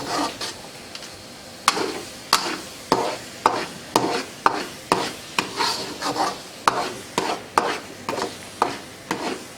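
Bumbu dasar spice paste is stirred in a pan during cooking, giving a steady series of rhythmic scraping strokes about every half second, each with a soft sizzle, close and fairly loud with no talk.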